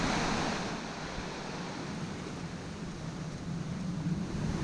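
A small river weir near Gibson Mill sends water tumbling in an even, close rushing roar, with light wind buffeting the microphone and nobody speaking.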